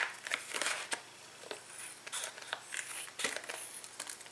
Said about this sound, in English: I'm just going to cut mine out with scissors.